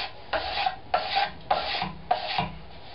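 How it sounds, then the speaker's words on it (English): A card scraper is pulled across a wooden surface to smooth ridges left by a power planer, giving five evenly spaced, crisp rasping strokes, close and clear with nothing else heard. "I'm just going to use a card scraper here to clean up the surface a bit, make it a little bit smoother"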